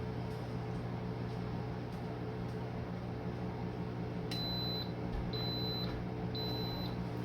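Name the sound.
pressure cooker beeping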